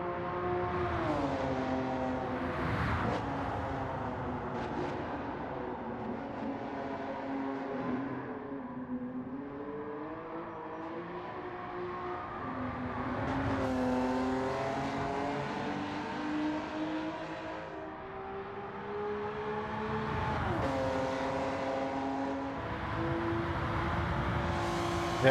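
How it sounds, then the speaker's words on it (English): A Honda NSX engine in a racing video game, revving and pulling through rising and falling gear sweeps, a steady loud drone that climbs, drops at shifts and climbs again for about 25 seconds with no voices. "Nice sounding NSX."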